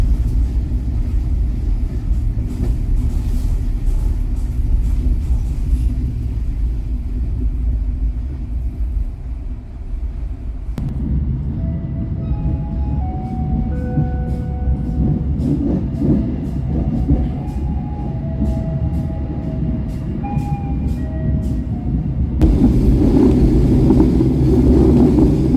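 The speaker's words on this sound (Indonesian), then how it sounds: "kereta api Pasundan tiba di stasiun Leles, bersilang dengan kereta api Cibatuan" Pasundan train pulling into Leles station as the Cibatuan train passes on the adjacent track, a steady heavy rail rumble with clattering wheels and a louder surge near the end.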